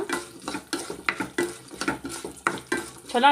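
Sambar onions (shallots) frying in a pan, with a steady sizzle broken by repeated scraping stirs of a spoon against the pan, close and loud.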